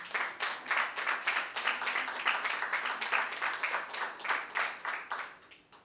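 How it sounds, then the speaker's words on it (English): A round of applause from the audience at a debate-style hearing, many hands clapping in a steady, slightly pulsing rhythm at moderate distance, fading out at the end. "Please feel free to give them a round of applause."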